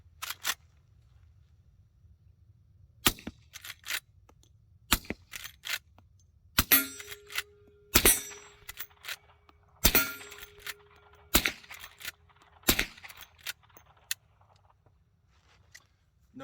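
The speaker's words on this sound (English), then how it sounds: "Going to do a sound comparison between 357 and 38 special subsonic out of this Henry Model X." A suppressed Henry Model X lever-action rifle firing 38 Special subsonic rounds: a series of sharp, muted cracks spaced a second or two apart, with metallic lever clanks between some shots, outdoors and with no talking.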